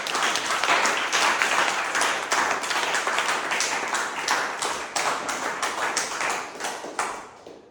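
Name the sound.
audience applause at a Toastmasters meeting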